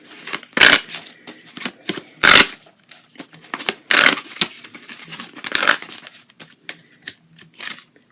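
Tarot cards being shuffled and pulled by hand, close and crisp, with sharp riffling bursts and softer card slides and taps spaced irregularly, no talking.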